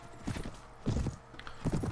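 A horse galloping in the game AD1257, three clustered bursts of heavy hoofbeats in quick rhythm, close and fairly loud with no talk.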